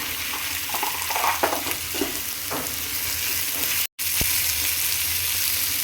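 Onion, tomato and sprouted grains sizzle in a pan with a steady, close frying hiss, broken by a few spoon-stirring clinks and scrapes and one brief cut in the sound.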